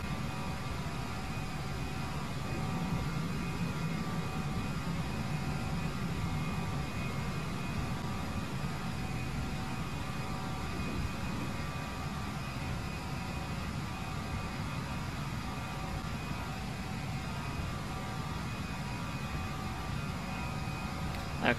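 An Airbus A319's jet engines climbing after takeoff in a flight simulator, on a flight from Gatwick to Nice, as a fairly faint, steady roar and hiss that holds evenly throughout with no voices.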